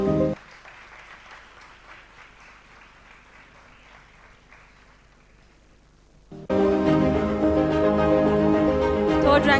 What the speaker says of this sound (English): Can we have the applause going,